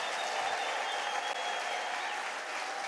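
A church congregation at a New Creation Church service breaks into dense, continuous applause, many hands clapping steadily and fairly loudly from start to finish with a crowd feel.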